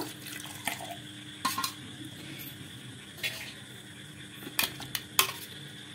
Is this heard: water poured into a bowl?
yes